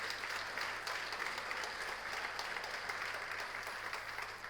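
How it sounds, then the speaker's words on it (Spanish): A church congregation claps loudly and steadily, a dense sustained wash of applause filling the room with no break, praising Jesus Christ during a Spanish-language sermon. "Dele un fuerte aplauso al Señor Jesucristo"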